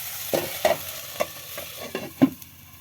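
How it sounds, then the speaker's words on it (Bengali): Spices and tomato sautéing with fish in a covered pan for a yogurt rohu curry, with a soft background sizzle broken by a handful of irregular spatula knocks and stirs, close and moderately quiet, with no speech. "টমেটো সব মশলাকে ভালো করে আরও একটু সময়ের ধরে আমি কষিয়ে নেবো"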